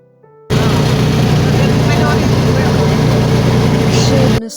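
An auto rickshaw carrying five people rattles along with a loud, steady engine drone and road rumble right up close, starting abruptly and running unbroken until it cuts off.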